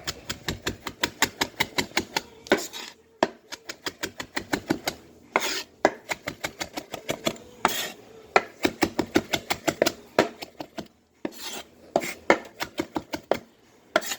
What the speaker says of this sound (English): So you want to just shave off some parsley. Gather it up, give it a rough chop.